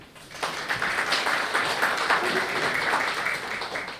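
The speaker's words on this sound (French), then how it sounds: "Merci de les applaudir s'il vous plaît." Audience applause at an IT career fair in Tunisia, a steady wash of many hands clapping that swells quickly and holds at moderate loudness for several seconds.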